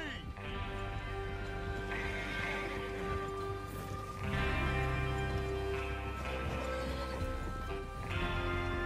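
Hooves clip-clop at a steady trot beneath a sustained musical backdrop, with a horse's brief whinny mixed in, in the video game Red Dead Redemption 2.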